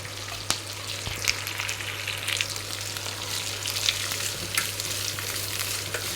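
Food frying in a pan on a gas stove, cooking until golden, with a steady crackling sizzle, scattered louder pops and occasional stirring clinks, close and continuous with no talk.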